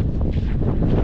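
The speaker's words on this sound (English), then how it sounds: "it's like a billion percent windy over here" Strong wind at Streaky Bay, Australia buffets the microphone in a continuous low rumble, loud and steady throughout with no letup.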